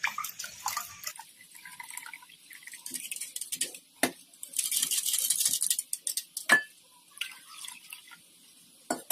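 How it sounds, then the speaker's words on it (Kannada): Water is poured into curd to make buttermilk, giving a splashing, trickling pour in uneven bursts with a longer steady stream midway, plus occasional clinks and drips between pours. "ಈಗ ಇದಕ್ಕೆ ನೀರು ಹಾಕೊಂಡ್ಬಿಡೋಣ ಒಂದ್ ಸ್ವಲ್ಪ"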